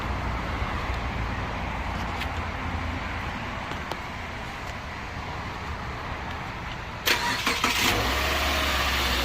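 A Subaru Outback being jump-started, idling under a low engine hum before the engine catches near the end with a sharp rise into a steady, louder run, recorded close with no talking.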